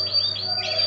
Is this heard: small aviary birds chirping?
yes